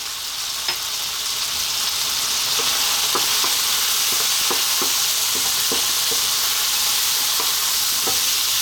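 Turmeric frying and being stirred in a pot for an Ethiopian lamb and potato stew: a loud, steady close sizzle with occasional scraping stirs and light clicks of the spoon, no talking.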